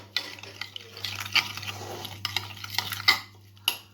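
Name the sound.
mixing spices with oil in a bowl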